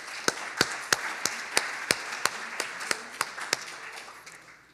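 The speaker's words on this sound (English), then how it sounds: "Let's give him another round of applause." A round of applause at the Silicon Valley Leaders Symposium comes through as sparse, evenly spaced claps, about three per second, fairly close and distinct, slowly easing off with no talking.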